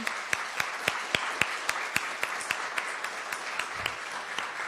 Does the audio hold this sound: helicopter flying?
no